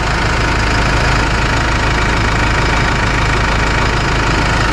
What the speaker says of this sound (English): I just came out here today and I cranked the tractor up